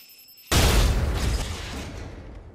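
A loud, sudden blast in a video game as a charge blows open a hold, hitting hard after half a second of near silence and rumbling down over the next two seconds.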